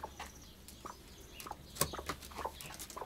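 A rooster, a former fighting bird, clucks softly in a henhouse, with scattered short faint calls and light rustling over a low background hum.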